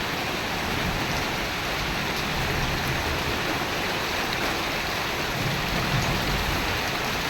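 Steady rain falls continuously, a dense even hiss of water without pause.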